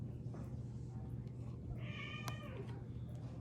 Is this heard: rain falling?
no